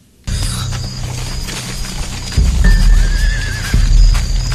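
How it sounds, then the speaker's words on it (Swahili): A horse whinnies loudly and close, with hooves clip-clopping throughout and a sharper stamp near the end. "Ghafla sikia sauti ya farasi."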